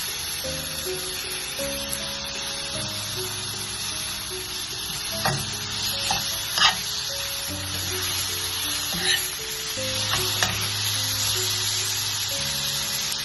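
Tomatoes and cilantro sizzle and fry in a pan for an egg roast, with a steady hiss of cooking and occasional sharp clicks and scrapes of stirring, while a soft background music tone runs underneath.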